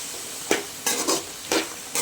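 A spoon stirs carrots and onions frying in a pan, giving about five sharp scraping strokes over a quiet sizzle, with no voices.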